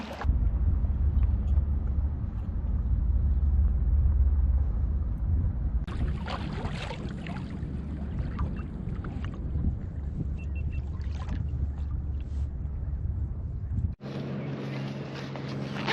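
A kayak crosses a half-mile channel to Saddlebag Island in the San Juan Islands, with paddle strokes splashing and water swishing against the hull over a steady wind rush, ending in an abrupt change of scene.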